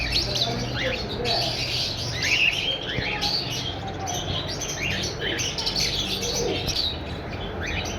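A caged breeder pair of red-eyed ino birds chirps in short repeated tweets and calls, with steady background noise and some voices nearby.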